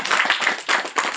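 A room full of people claps briefly in quick uneven bursts, brisk and fairly close, lasting only about a second.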